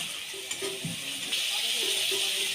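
Ground spices (turmeric, chili, cumin and coriander powder) stirred in a hot pan for a home-style vegetable curry, a soft continuous sizzle with a few scraping stirs, close and steady, no talking.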